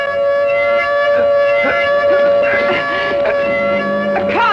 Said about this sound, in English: And this is the button that activates the alarm system.